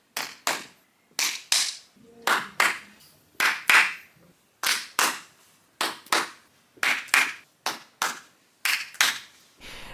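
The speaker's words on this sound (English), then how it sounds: "If you hear all the recordings, you can hear them do all the clapping." Sharp hand claps from a worship song recording come in pairs at a steady beat, loud, dry and close, with nothing else audible.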